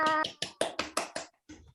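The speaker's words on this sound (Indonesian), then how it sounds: "tepuk tangan untuk kita semua" A classroom group claps about seven rhythmic beats in quick succession, then pauses before one final softer clap. The claps are close and sharp.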